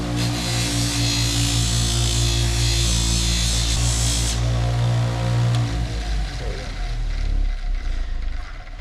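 A spinning part on a new Greywolf F150 grinds steadily against a standard screwdriver held as a makeshift rasp, a loud, continuous abrasive whir that winds down and fades toward the end.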